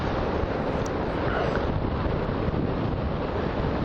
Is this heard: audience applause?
no